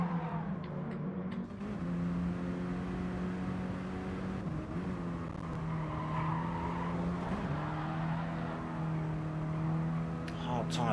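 Mini Cooper Cup race cars racing at Brands Hatch, with a steady engine drone that rises and falls in pitch through gear changes and corners, heard from a distance under continuous commentary.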